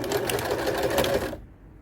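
A sewing machine stitches a straight seam along cushion cover fabric, a dense, rapid, steady whirring clatter close up that runs for over a second and then stops abruptly, leaving a quiet hum.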